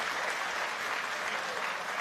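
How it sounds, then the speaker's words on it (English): Applause for two fighters after a full combat-sports bout, a dense steady burst of clapping from the arena crowd lasting about two seconds. "They certainly deserve your applause"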